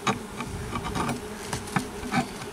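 Honeybees swarm and hum around an opened beehive during an apiary visit, a dense, close, continuous buzz with individual insects swelling louder as they pass near.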